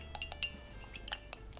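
A spoon stirs a fluffy half-teaspoon addition into a pot of heated liquid for mead, giving a few light, quiet clinks against the metal in a calm kitchen.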